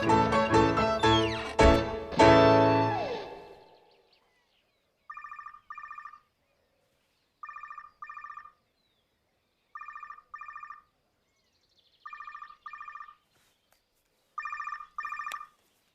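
After a few seconds of fading music, a telephone bell rings in six evenly spaced double bursts, each pair of bright trilling rings followed by a silent gap, clear and close.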